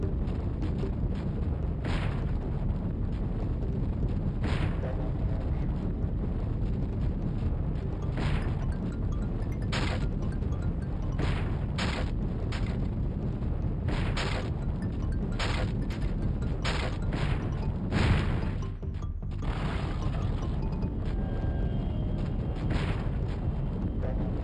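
A rolling boulder in Uncharted 4 rumbles and crashes with a dense, loud, continuous roar and repeated heavy impacts over game noise.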